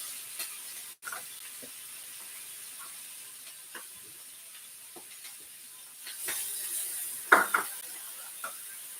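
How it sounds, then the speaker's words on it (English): Steady hiss of food frying in a pan with occasional clinks and scrapes of a utensil stirring, no talking. "Get that sizzle going."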